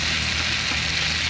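Thick-cut slices of ampalaya (bitter gourd) fry in a pan inside a car, giving a steady, dense sizzle that runs unbroken and fairly loud throughout.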